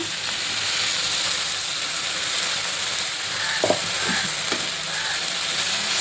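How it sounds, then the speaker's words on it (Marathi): Green spinach paste sautéing in a pan for spinach pulao, a steady close frying hiss with a few light clicks of the spoon against the pan. "चांगलं परतून घेऊया."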